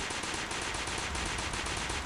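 P90 gunfire in the Alien Resistance mobile game, a sustained rapid automatic burst that rattles on without pause, loud and close, with no talking.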